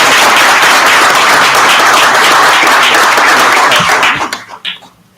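Audience clapping at a township board of trustees meeting, loud dense applause filling the room for about four seconds before tapering off into a few last scattered claps.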